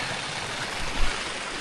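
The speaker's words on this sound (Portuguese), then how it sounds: "a gente está numa das nascentes do córrego do Retiro" Small stream at a spring of Córrego do Retiro in the Serra da Calçada, a steady broadband rush of flowing water, close and continuous with a brief low swell near the middle.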